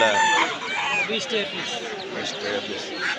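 Chickens and ducklings cluck and squawk close by in a busy crowd at a poultry market, with a rooster crowing and people talking in the background.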